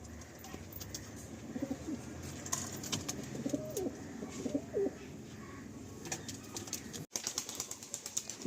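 Andhra and Madrasi pigeons cooing in soft, repeated low rolling calls from nearby, joined by occasional wing flaps and light chirps over a steady background hum.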